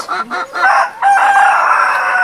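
Chickens cluck in short bursts before a rooster crows loudly and close by, the crow sustained to the end.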